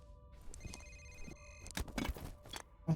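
A telephone rings in the video game F.E.A.R., a short electronic bell tone sounding briefly amid game noises, thuds and footsteps, with no talk over it.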